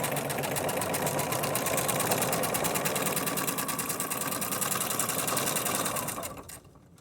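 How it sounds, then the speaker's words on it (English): A straight stitch sewing machine runs steadily at a fast, even stitching rhythm for several seconds, close and loud, then slows and winds down near the end. "any straight stitch sewing machine will work"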